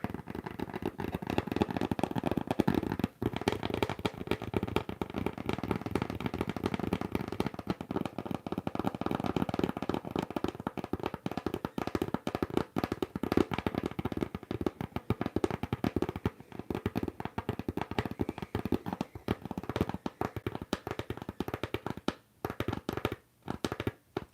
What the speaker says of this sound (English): let's type on the keyboard